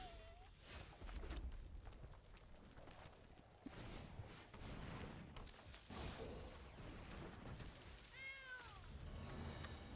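A cat meow sound effect plays when the Skittering Kitten card comes into play in a Spider-Man draft of a digital card game. Two short, quiet meows, one at the start and one near the end, sit among busy game effects.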